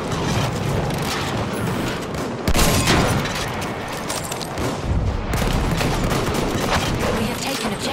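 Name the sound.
fortress gun firing in Battlefield 1 video game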